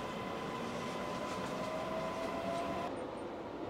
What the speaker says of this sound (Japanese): 列車は定刻通りに成田空港第1ターミナル駅を発車。